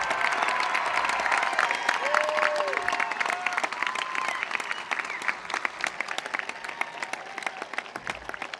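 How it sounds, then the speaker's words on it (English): Enthusiastic applause for the 2024 graduating class at a high school graduation ceremony, dense clapping with scattered whoops and cheers that thins slightly toward the end. "And how about one more round of applause for the graduating class of"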